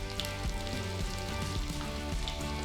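Ghee with mustard seeds and cumin spluttering in a hot pan, a steady dense crackle with sharp popping bursts, close and continuous, no voices.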